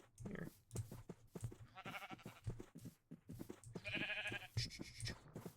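A flock of Minecraft sheep in the video game bleating repeatedly, many wavering baa calls layered over a stretch of several seconds, close and loud, with no speech.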